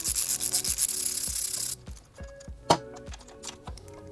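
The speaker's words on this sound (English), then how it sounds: "I will mount my 17mm socket and start removing this bolt." A 17mm socket works loose a frame bolt on a 2022+ Yamaha R7 motorcycle: close metallic ratcheting with a brisk, regular rhythm, one sharper clack near the end and no speech.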